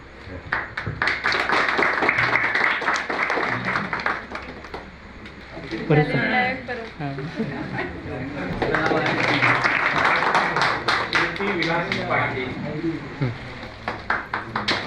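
An audience at a school prize ceremony claps in two rounds of brisk hand-claps, before and after a stretch where people talk.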